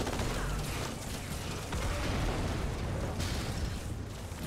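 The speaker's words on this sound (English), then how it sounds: "it's about to explode" A Warthog vehicle explodes in Halo 2 (Master Chief Collection campaign): a loud, sustained roar of blast noise and rumble that fills the whole stretch without easing, with no talk over it.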